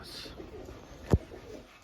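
Pigeons coo softly in a coop area under construction, a faint low call against quiet background with a brief sharp knock midway.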